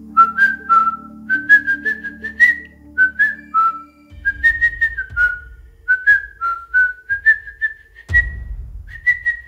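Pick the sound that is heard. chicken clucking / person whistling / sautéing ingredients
person whistling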